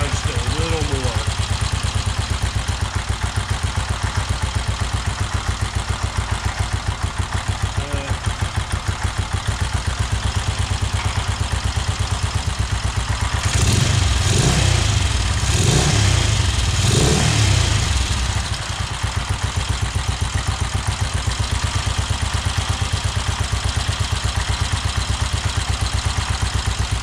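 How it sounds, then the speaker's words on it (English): A 1969 BSA Starfire motorcycle engine runs steadily at idle with its fuel shut off, a loud continuous throb that swells briefly into a few rougher bursts near the middle before settling back. "Let the bike run till it dies."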